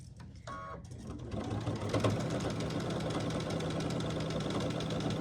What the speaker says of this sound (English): Then I just stitch down this side till I get sort of close to where I started.